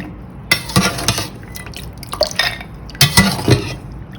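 Peanuts are stirred and scooped in a bowl of rinse water with sloshing, dripping and light knocks against the container, heard close in uneven bursts.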